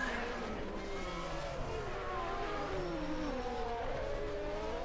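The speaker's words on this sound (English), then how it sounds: "Sounds like typical Ferrari" A Ferrari V12 Formula 1 car at the 1991 French Grand Prix gives a loud, continuous high-pitched engine wail whose tone sweeps up and down through gear changes across the whole stretch.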